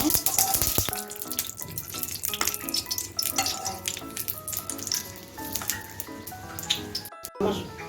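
Seven or eight curry leaves dropped into hot oil in a pan crackle and sizzle busily and close by, with sharp pops in a dense, uneven spatter.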